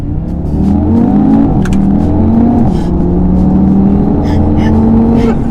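An Audi TT RS with a 400 hp engine idles and revs in a dealership delivery area, its deep, steady engine drone loud and continuous with slight rises in pitch, and a voice may be faintly present beneath it.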